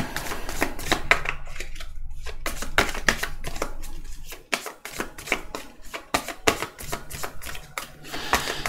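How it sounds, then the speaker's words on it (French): Tarot cards are shuffled by hand in a rapid series of crisp riffling snaps and flicks, close and fairly loud, with a brief pause midway and no talking. "Alors hop, on mélange."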